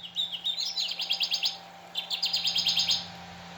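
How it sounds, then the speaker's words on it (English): A Wild Republic Audubon plush Kirtland's warbler toy plays a recorded song through a tiny speaker: two quick bursts of rapid, rhythmic, high chirping notes, close and clear, over a low steady hum. "Kirtland's warbler."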